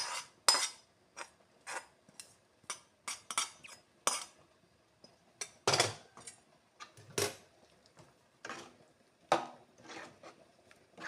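Fried capsicum and carrot being stirred into a pan of paneer masala: a sparse series of sharp utensil clinks and taps against the pan, close and distinct, with quiet gaps between strokes and no speech.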